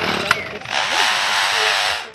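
A lyrebird mimics a chainsaw with a loud, buzzing, revving drone that rises and holds for over a second, framed by short sharp clicks at the start and end.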